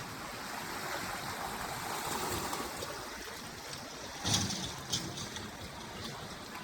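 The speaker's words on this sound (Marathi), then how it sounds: "तिथे बघाल तिथे पाणीच पाणी आहे." Flood water rushes and streams steadily, a broad continuous flow like a running stream with brief splashy surges, moderately near.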